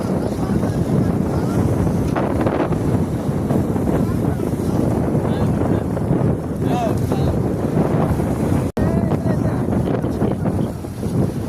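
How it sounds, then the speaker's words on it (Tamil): Strong wind buffets the microphone steadily at the shore during bottle-trap fishing, a dense roar with water noise beneath, and a brief dropout near the end. "ஒரே காற்று இருக்குது நிறைய"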